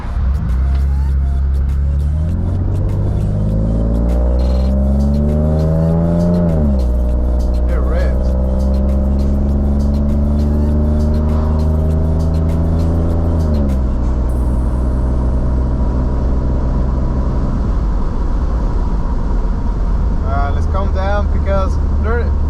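A Ford F150 pickup truck on a test drive, its engine revving up through rising gear pulls and dropping between shifts, loud and close from inside the cab, with faint talk toward the end.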